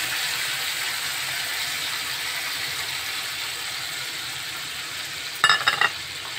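Tomato paste fries with cumin in a pan, making a steady close sizzle. Near the end a short burst of scraping and clattering from stirring cuts in. No voices are heard.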